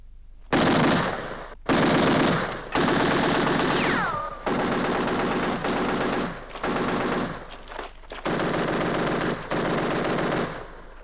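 Machine gun volleys in a 1969 war film about the battle of El Alamein: about nine loud, close bursts of rapid automatic fire separated by short gaps, with no talking.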